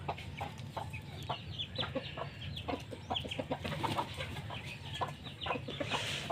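Backyard flock of pet chickens, with a rooster crowing amid repeated clucking from several hens, close and fairly loud against steady farmyard background noise.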